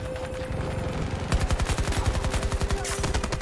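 Rapid automatic gunfire from a video game, Battlefield 2042, bursts out after a quieter stretch of background hum, then continues as a steady, loud rattle of closely spaced shots to the end.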